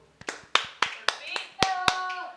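Several sharp, separate claps ring out in a church Bible-study session, spaced unevenly with a short tone sounding near the end.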